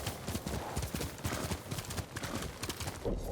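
Rapid, steady clip-clop of a horse galloping along a road in the video game Ghost of Tsushima, with dense, continuous hoofbeats held at an even loud level throughout.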